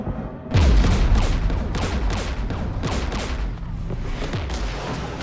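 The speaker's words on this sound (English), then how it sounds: "We're taking fire." Heavy gunfire and explosions ring out in the video game Mass Effect Legendary Edition: a loud booming impact followed by a dense, continuous fusillade of shots echoing over several seconds.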